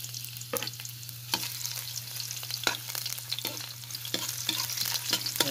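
Ginger sizzling in a pan as it is sautéed, a steady soft frying hiss broken by irregular scraping clicks of stirring, close and alone.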